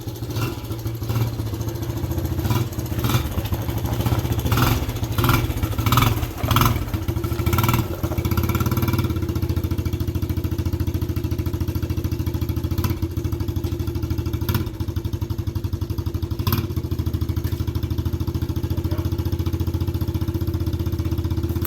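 A Suzuki LT125 ATV engine runs steadily at idle with a low, continuous putter, a few brief revs early on, then settling into an even drone with no talking.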